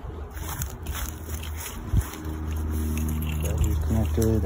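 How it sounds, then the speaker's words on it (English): A Mitsubishi Eclipse with its EGR valve newly refitted is started: a short cranking burst, then a steady, fairly loud engine idle rumble that carries on to the end. "just gotta turn the car on now, see if the check engine light goes away"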